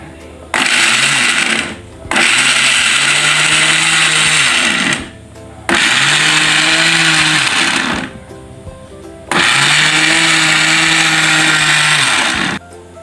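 A blender grinds green chilies in three loud bursts of several seconds each, with short silent pauses between them as the motor stops and restarts.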